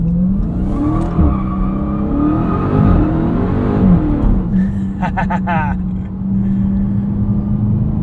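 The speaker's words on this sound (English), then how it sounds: "we were just doing a Forza burnout there and rolling through the gears" A 2023 Dodge Charger Hellcat Widebody Jailbreak does a burnout and rolls through the gears, its loud engine roaring and shifting pitch with a brief tire squeal midway, heard close from inside.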